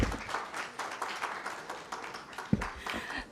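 An audience applauds after a speech at a Konrad Adenauer Stiftung event in Kenya, a soft, fairly quiet patter of clapping with one sharper clap near the end.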